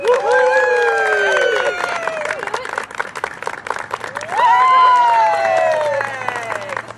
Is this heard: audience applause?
yes